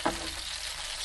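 British beef Denver steak frying in a pan, a steady close sizzle with a faint clatter at the start as the meat is turned, no voices.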